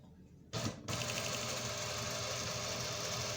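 Sewing machine stitching a two-piece shirt collar, a sharp burst followed by a steady rapid mechanical whir and clatter that runs on evenly at moderate loudness.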